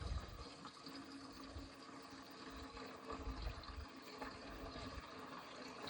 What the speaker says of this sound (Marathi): किती सांडायला ते बदा बदा धार लागली खाली